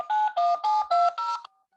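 A telephone number is dialed for a live talk-radio call: five distinct touch-tone beeps in a steady rhythm, loud and clean against silence, ending with a faint lingering tone.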